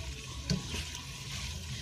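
Butter sizzling gently in a pan over low heat, a soft steady frying hiss with faint stirring scrapes, close and alone without talk.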